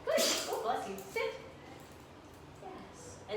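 A sneeze during a dog training session at home, likely from the dog, a short sharp burst near the start followed by softer sounds, with a person talking nearby.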